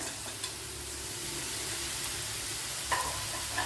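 A bajji chili, a large green chili, frying in a pan for a Kerala-style bitter gourd dish, with a steady, close sizzle that hisses evenly throughout and has a few faint pops and stirring scrapes.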